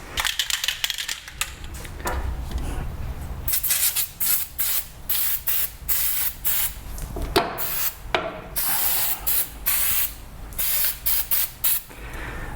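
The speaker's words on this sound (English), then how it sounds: "We'll put a little bit of rust preventative on there so it doesn't rust up" Fluid Film rust preventative sprays from an aerosol can onto a Nissan wheel bearing in short, repeated hissing bursts, close and fairly loud, with small clicks between bursts.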